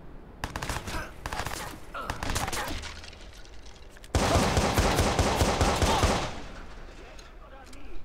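Rapid gunfire bursts and machine-gun fire in the video game Watch Dogs, sharp repeated shots with a dense volley midway, loud and close.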